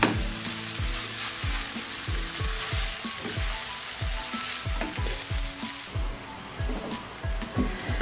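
Vermicelli being tossed and mixed in a pan over a low flame, with a steady sizzle of frying under a quick series of rhythmic scraping strokes, close and fairly loud.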